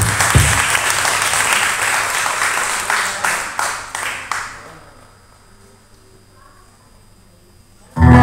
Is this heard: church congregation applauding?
yes